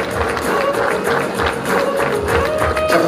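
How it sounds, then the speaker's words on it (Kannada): Crowd clapping at a prison academy building inauguration ceremony, steady and dense across the whole stretch, fairly loud with a faint murmur beneath. "ಚಪ್ಪಾಳೆ ಸಾಲದು, ಇನ್ನೂ ಸ್ವಲ್ಪ ಗಡಚಿಕ್ಕೊಂಡು ಸಹ ನಾನು ಸ್ವಾಗತವನ್ನು ಕೋರುತ್ತೇನೆ"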